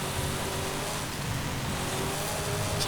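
A rear-mounted combustion engine drones steadily as a 2000 Hot Wheels Deora II is driven off-road in the racing game Forza Horizon 5, a dense, constant rumble with little change in pitch.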